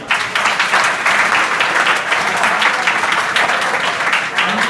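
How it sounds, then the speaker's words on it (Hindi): A classroom audience claps for a student at a school event, giving loud, dense, sustained applause that fills the whole stretch without letting up. "तो एक बार फिर से ताली बजाए भाई के लिए।"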